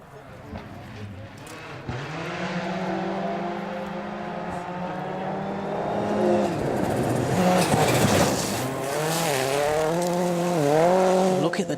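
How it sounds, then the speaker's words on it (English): Rally car at a gravel stage of the South Canterbury Rally, engine revving hard through a corner with shifting pitch, moderately close, under a commentator's talk. "Look at the dust coming off the back of it as that car throws itself through the corner."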